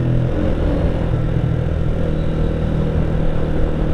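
A 2017 Honda CBR 125R motorcycle with a full Black Widow aftermarket exhaust runs steadily with a deep, throaty exhaust rumble, loud and close, holding a constant idle without revving.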